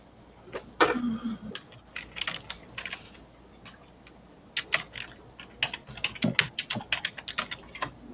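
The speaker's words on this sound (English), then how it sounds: "sorry about the typing noise" Bursts of rapid clicking keystrokes on a computer keyboard, close by, with a pause in the middle before a faster flurry of typing.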